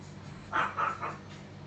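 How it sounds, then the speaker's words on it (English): A dog barking indoors, three short muffled woofs in quick succession, fairly faint and alone with no talking. "Oh, sorry, my dog's at it again."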